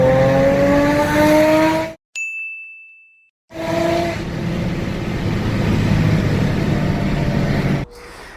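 A supercharged Subaru EZ30 flat-six engine pulls hard and climbs in pitch, cuts out briefly with a ringing tone, then roars back up, followed by a quieter idle.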